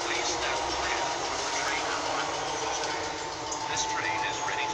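A train runs through Carshalton station without stopping, making a steady, loud broadband roar and rumble that holds for the whole stretch with no break.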